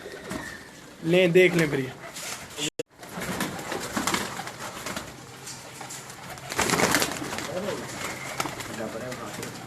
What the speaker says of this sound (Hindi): ले जी, ये कबूतर थे तमाम तर